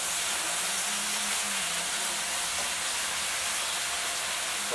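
Pork in marinade sizzling in a pan for fajitas, a loud, steady, broadband hiss that holds evenly throughout with no talk.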